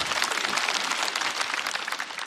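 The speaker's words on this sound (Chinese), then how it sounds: "可以鼓掌，可以鼓掌啊！" Audience applause at a Chinese stand-up comedy show, a dense steady clapping from a crowd that carries loudly for a couple of seconds with no talk over it.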